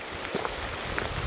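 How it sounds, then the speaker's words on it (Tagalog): Heavy rain pouring down outdoors, a steady dense wash of drops on surfaces with a few sharper nearby splats, heard alone. "Sobrang lakas ng ulan."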